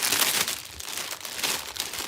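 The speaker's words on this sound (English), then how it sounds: "Sorry in advance for the crinkling." Plastic packaging from an online order crinkles and crackles steadily and close by for about two seconds, a dense, busy rustle with no talking.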